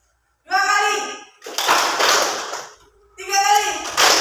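Schoolchildren in an Indonesian classroom clap their hands together on a teacher's command, loud bursts of clapping alternating with the class chanting aloud in unison between them.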